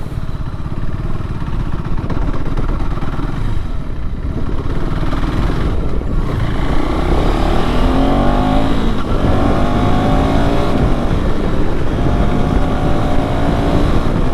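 A KTM adventure motorcycle engine drones loudly and steadily at close range, rising and falling as the rider revs and accelerates over rough off-road ground.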